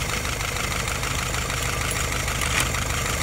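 A YS950S engine idles after a cold start, a steady, loud, rough chugging drone for a few seconds with a faint knocking quality and no voices.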